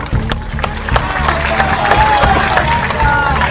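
Crowd at an Akhilesh Yadav political rally in Chandla applauding, steady clapping and cheering filling the space with a dense crowd murmur throughout.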